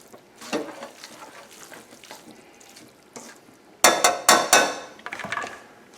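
Pork stirred in a hot pan with peanut oil: soft scraping and sizzling, then several sharp loud clanks of a utensil striking the pan, close up with no talking.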